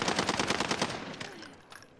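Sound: gunfire in the video game Call of Duty Warzone

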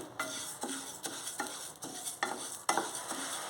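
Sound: flax seeds frying in a pan

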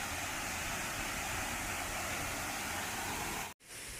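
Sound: Mae Khamin waterfall flowing

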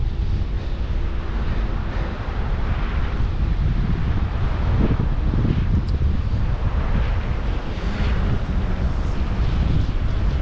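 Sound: wind blowing at the beach

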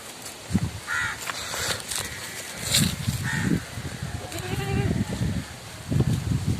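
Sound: goat bleating

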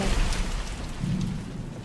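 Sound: rain in The Mortuary Assistant video game

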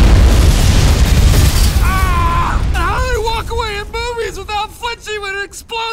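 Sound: movie explosion in The Other Guys trailer

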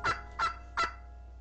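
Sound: turkey gobbling in a children's audiobook

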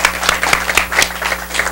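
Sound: studio audience applause

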